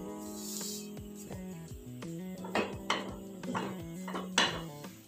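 A spoon stirs roasting chana dal with ghee in a pan for halwa, giving scattered scraping clicks and metal taps under steady background music.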